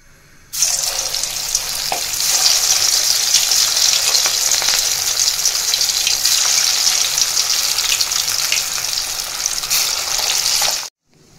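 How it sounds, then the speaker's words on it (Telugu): Bottle gourd kofta balls fry in hot oil, giving off a steady, loud, crackling sizzle that starts abruptly and holds evenly for about ten seconds before cutting off, with no voices over it. "ఆయిల్ కూడా వేడైపోయిందండి. బాల్స్ ఫ్రై చేసుకుంటున్నాము"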